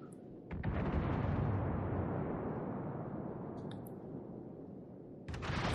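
Naval guns in World of Warships let off a single deep, rumbling boom that rolls and fades slowly over several seconds, then a second blast hits near the end; no talking.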